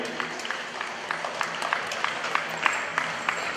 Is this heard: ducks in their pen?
no